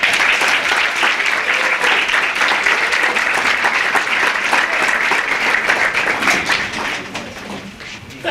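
Steady, dense audience applause at a Hartford mayoral campaign announcement rally, a full room clapping continuously for a speaker before tapering off near the end.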